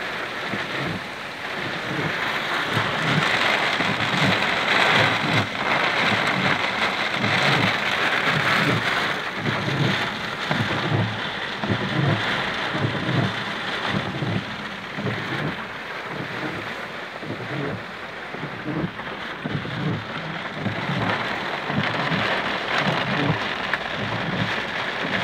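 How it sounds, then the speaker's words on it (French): Heavy rain pours steadily during a moderate thunderstorm in Livron, Drôme, France, a dense, continuous roaring downpour with wind buffeting the microphone throughout. "Bon, ça va les gars, c'est de la pluie!"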